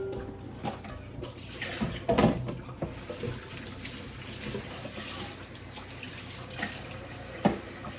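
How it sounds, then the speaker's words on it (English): Water running steadily from a kitchen tap while someone washes their hands, a soft continuous splash with occasional small clinks, fairly quiet. "Wash my hands off real fast"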